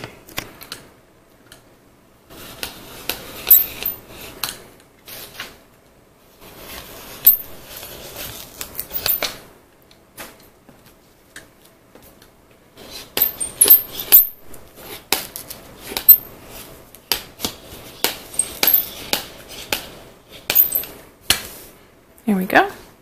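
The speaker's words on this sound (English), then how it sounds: "I'm going to use a quick rotary cutter." Rotary cutter rolling through a single layer of fabric held by pattern weights, heard as bursts of crisp scraping and clicking strokes separated by short pauses, close and fairly loud.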